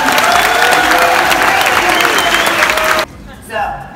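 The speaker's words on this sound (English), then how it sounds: "Can we get a big round of applause for everyone?" Loud, dense applause with some cheering from a crowd at a doll convention for Integrity Toys' Luxe Life event, filling the room for about three seconds before cutting off sharply, followed by a brief murmur of voices.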